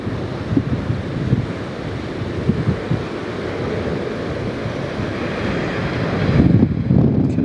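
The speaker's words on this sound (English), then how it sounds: "It's a bit windy here right now as well." Gusty wind at Lihue airport, Hawaii, buffets the microphone with a low, rushing roar, swelling and easing, growing stronger near the end; no voices.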